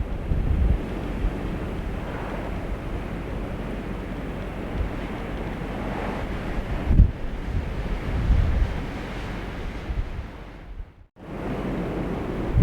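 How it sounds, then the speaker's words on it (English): A strong wind gust roars through the foothills above Boulder, Colorado, during the Marshall Fire wildfire: steady, heavy buffeting against the microphone that swells near the middle, then briefly drops out before returning. "We just had a wind gust"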